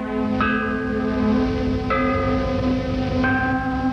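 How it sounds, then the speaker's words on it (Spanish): An ancient Chinese bronze bell cast to sound two tones is struck three times at a slow, even pace. Each strike gives a clear, sustained, ringing tone with layered partials that decays slowly into the next. "Las campanas llevan una inscripción identificando los 2 tonos que produce."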